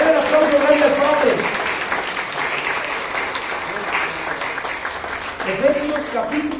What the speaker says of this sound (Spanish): Denle el aplauso grande al Padre